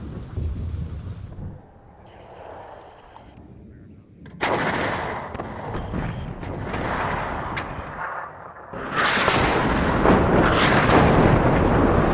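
Artillery fires in WARNO, a military strategy video game, as heavy booming blasts roll out in loud, rumbling bursts that build toward a dense, sustained roar of fire.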